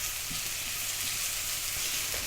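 Onions sizzle and fry in about three tablespoons of hot prawn oil in a frying pan, a steady crackling hiss with faint stirring, with no talking.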